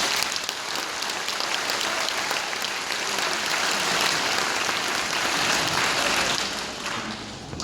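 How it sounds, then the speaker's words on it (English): Sustained audience applause for band students at a middle school honors band winter concert, dense and steady clapping from a full room that lasts throughout and begins to fade near the end. "So a round of applause for those students."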